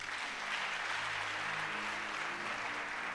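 A church congregation applauds during a worship service, a steady, dense wash of clapping that fills the room evenly from start to finish with no break.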